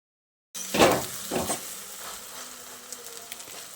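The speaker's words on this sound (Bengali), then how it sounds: "তারপর আরও 1-2 মিনিট মতো এইভাবে অপর সাইডটাকেও ভেজে নেব" An egg and raw potato omelette frying in a pan, heard up close as a steady soft sizzle that opens with a couple of louder scraping bursts, then settles into a quiet, even hiss with no talking.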